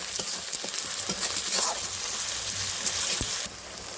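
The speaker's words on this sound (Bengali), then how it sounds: "একদম ভালোভাবে রসুনটাকেও ভেজে নেব।" Garlic paste added to browned onions and frying in a pan for a chicken kasa curry, a close, steady sizzle and crackle with a few spatula knocks, the hiss dropping slightly near the end.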